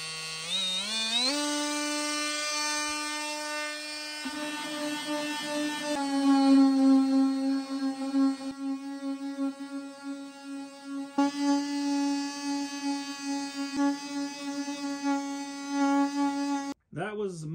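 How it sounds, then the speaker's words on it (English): Ryobi HP brushless oscillating multi-tool fitted with a sanding head and 60 grit sandpaper, ramping up to a high steady buzzing whine that sands continuously for most of the clip, up close and loud, before stopping abruptly. "Now I have the Ryobi HP Brushless with 60 grit sandpaper, because I already had the sanding head on this"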